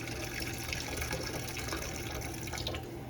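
Tap water runs steadily into a sink or pan while cooked meatballs are rinsed to wash off fat, a continuous close splashing stream with no talking.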